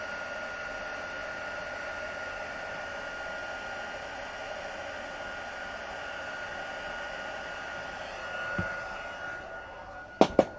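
A handheld heat tool for craft heat embossing blows a steady, moderately loud hiss of hot air throughout, ending with two sharp knocks near the close, and no voices.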